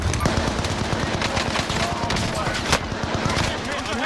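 Rapid automatic gunfire and scattered shots crackle through a Call of Duty: Modern Warfare battle, dense and loud throughout, with a sharp louder burst near the end and faint voices mixed in.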